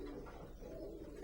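Racing pigeons in a loft make soft, low cooing that is close and continuous through the short stretch, with no talking.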